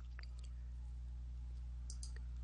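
A few light computer mouse clicks, soft and close, sit over a steady low electrical hum with no talking.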